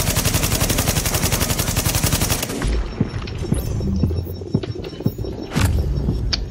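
Rapid automatic gunfire from Tom Clancy's The Division on PC, a dense continuous burst for the first couple of seconds, then scattered single shots and impacts in a quieter firefight.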